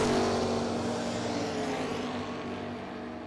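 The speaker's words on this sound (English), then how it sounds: "Gotta love a station wagon that puts the front wheels in the air." A big Chevelle station wagon drag races at the World Street Nationals, its engine a loud, steady roar that holds for several seconds and eases slightly as the car pulls away down the strip.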